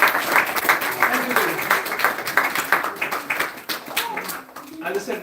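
Applause at a special class on time management, rhythmic individual claps in a room, moderately loud and gradually thinning, with voices faintly mixed in.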